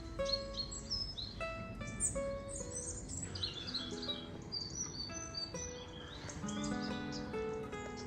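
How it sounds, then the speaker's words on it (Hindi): Birds chirp and sing continuously at Lake Garda, Italy, several overlapping calls trilling softly at a moderate distance in a calm outdoor setting, with no voices. "परिंदों की आवाज़ें आ रही हैं।"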